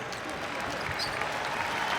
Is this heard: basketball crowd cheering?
yes